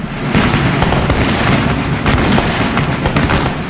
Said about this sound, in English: Rapid volley required tight coordination in the heat of battle if muskets were to fire at the same time